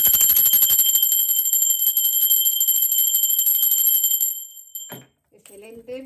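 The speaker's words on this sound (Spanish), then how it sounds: "Ahora sí, va campana." A sustained, bright metallic ringing holds steady for about four seconds, then cuts off abruptly, followed by a brief thud and a voice starting to speak.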